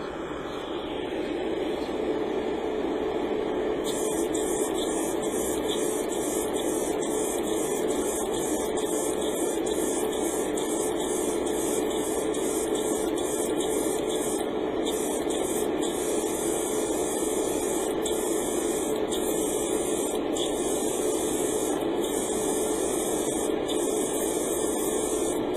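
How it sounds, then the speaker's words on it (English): An airbrush sprays paint onto a Gunpla model kit part from some distance, a steady close hiss with faint background hum, broken by short pauses and bursts of spray in the second half. "Now you can see I'm spraying quite far back"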